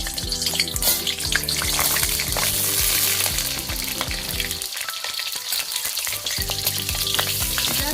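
Washed tomatoes sizzle loudly in a pan on low flame while being stirred, steady frying hiss with rhythmic scraping and clinks, briefly quieter in the middle before the stirring resumes.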